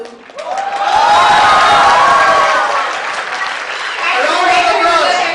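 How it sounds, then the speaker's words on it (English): Audience applause with some cheering at a silver wedding anniversary party game, a burst of clapping that swells quickly and stays loud for several seconds before easing slightly. "Round of applause."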